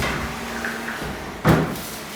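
A dusty, sticky two-door sliding wardrobe door in a flat interior is slid, a brief rolling scrape ending in a firm thud as it stops, close and fairly loud.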